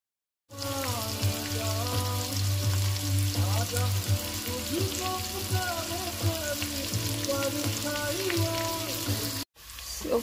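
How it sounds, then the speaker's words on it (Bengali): Chopped onions frying and being stirred in a pan, a loud continuous sizzle with scraping from the utensil, steady throughout before it cuts off abruptly near the end. "এখন পেঁয়াজটা দেওয়ার পর কিছুক্ষণ আমরা নাড়াচাড়া করব পেঁয়াজটা একটু নরম হয়ে আসার জন্য।"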